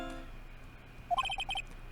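A phone ringtone plays Godot's theme in an Ace Attorney game, a short run of bright, electronic melodic beeps after a brief lull.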